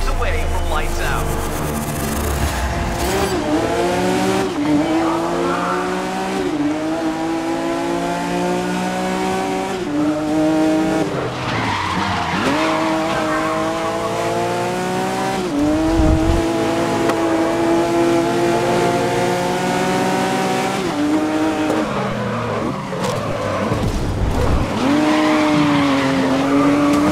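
Race cars on a track in the GRID racing game on Xbox One, GT Challenge event: loud engines wailing and shifting through gears continuously, with tire squeals and revving surges overlapping.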